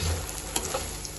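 Fox nuts stirred with a spoon in hot ghee in a pan for panjiri, giving a steady soft sizzle with faint scraping strokes throughout, close and moderately loud with no talking.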